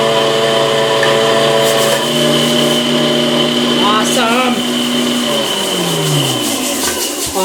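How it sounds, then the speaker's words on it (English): A meat grinder works through cooked turkey meat with a loud, steady mechanical whir and rubbing grind, its pitch shifting partway through as the load changes, heard up close with no talking. "Right now, I'm grinding up the left of this meat"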